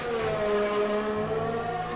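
Race car engine in an F1 video game at the hairpin braking zone in China with the rear wing open, a steady high-pitched whine holding level across two seconds with no talk over it.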